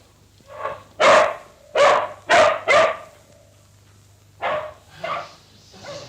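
A dog barks in two bursts: four loud close barks in quick succession, a pause, then a few softer barks.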